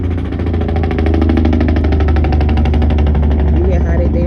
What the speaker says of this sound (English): You hear how they damn car sound going down the street?